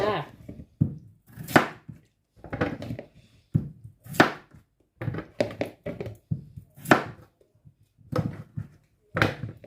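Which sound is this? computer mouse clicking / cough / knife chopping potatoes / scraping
knife chopping potatoes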